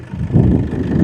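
Brief close idle of a 2015 Toyota Innova G variant engine, a loud, steady low hum with a smooth beat.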